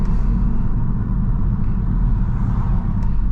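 A Kia Stinger engine in sport mode idles at a light, a steady deep low rumble heard from inside the car with the window partly down, continuous and fairly loud without speech.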